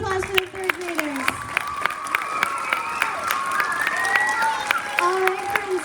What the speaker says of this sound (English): Big round of applause for the 3rd graders.